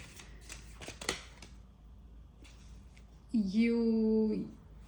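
Tarot cards being shuffled by hand produce soft, quick papery riffles and slaps, followed by a brief tonal sound near the end, in a quiet indoor setting.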